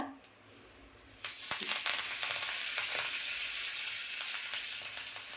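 Asafoetida, curry leaves and cumin hit hot oil in a pan and sizzle. A sudden loud hiss starts after a second and holds steady, with brief crackles and spatters.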